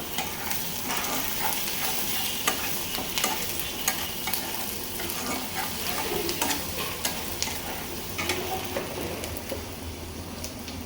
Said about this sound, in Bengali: আর মাংসটা বসাই দিলাম, মাংস কি হাড্ডি আর কি, আস্তে আস্তে জালে জালে হোক।